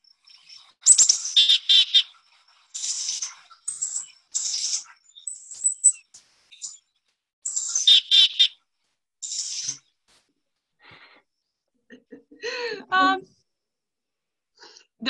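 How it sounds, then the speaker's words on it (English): A chickadee calls in short bursts of high, buzzy chirps, repeated several times with pauses between, close and fairly clear against a quiet background. "The chickadee call just literally sounds like it's saying chickadee dee dee."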